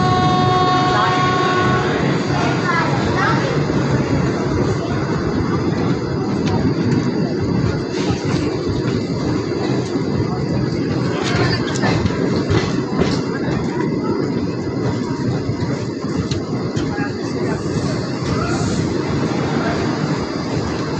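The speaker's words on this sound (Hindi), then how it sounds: "अब हमारी ट्रेन पहुंच चुकी है हरदोई" Bareilly–Prayagraj Sangam Express, an Indian passenger train, rumbles steadily as it pulls into a station, with a continuous loud low roar of wheels and carriages, faint clanks and a few brief tonal whistle-like notes early on.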